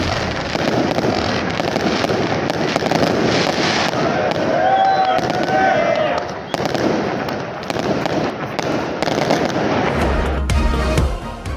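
A fireworks display at Ayub Stadium in Quetta marks the 23 March celebrations, with dense, continuous crackling and popping bursts that fill the air for the whole stretch and swell again near the end.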